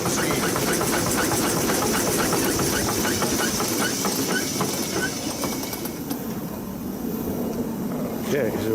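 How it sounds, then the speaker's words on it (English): A 1906 Stanley Steamer boiler at about 500 psi blowing off steam, a loud broad hiss with rhythmic chuffing pulses that thins out near the end, with voices talking over it. "Now when we blow the boiler off, we'll really show you the expansive power of steam."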